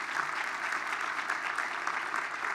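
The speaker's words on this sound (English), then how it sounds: "So please give him another round of applause if you can." Audience applause at a Hispanic business luncheon, steady dense clapping from a crowd, continuous and moderately loud throughout with no talk.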